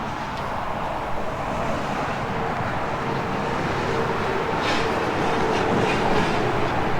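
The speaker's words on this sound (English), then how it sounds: "We have Highway 53 right behind us here in Duluth." Steady highway traffic roar from Highway 53 in Duluth runs behind an RV campsite, a continuous broadband rumble with passing-vehicle swells and no talk.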